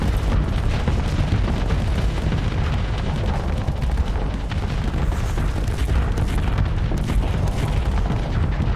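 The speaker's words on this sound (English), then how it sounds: "Let go all the missiles." In the space game Starsector, a missile salvo strikes an enemy capital ship, producing a dense, continuous barrage of booming explosions that rumble loudly throughout with no pauses.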